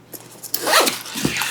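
Zipper on a TUMI Slim Deluxe Portfolio being pulled in one steady, close, rasping sweep that lasts about a second, with a few small handling clicks before it and no talking.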